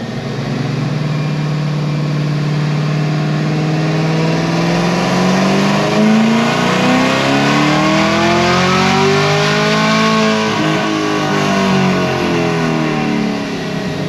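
Supercharged Chevrolet Camaro ZL1 making roughly 850 horsepower on 93 octane, engine note rising steadily through a long pull in fifth gear, loud and close, then falling off near the end with no talk over it.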